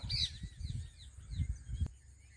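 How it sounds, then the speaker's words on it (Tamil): House sparrows chirp in a paddy field, with thin, high calls rising above a rumbling, wind-buffeted background noise that partly masks them. "இங்கே கொஞ்சம் சிட்டுக்குருவி உக்காந்துருக்கு"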